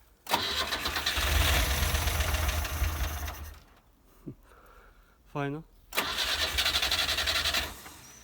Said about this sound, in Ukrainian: Будемо пробувати запуск. Як кажуть, 15 років машина стоїть.